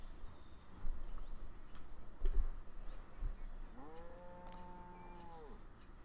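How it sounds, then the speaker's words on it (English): Cows low in the Banished village-building game, one long drawn-out moo standing clear over a steady ambient bed of farm and wind sounds, with a few soft thumps earlier on. "Look at these cows over here just hiding."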